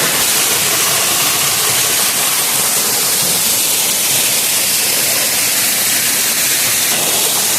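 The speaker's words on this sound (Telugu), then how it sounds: "ఒక మినీ వాటర్ ఫాల్ అని చెప్పుకోవచ్చు" A small waterfall in wild hill country pours constantly as a loud, dense rushing roar that stays steady from start to end, with no other sounds.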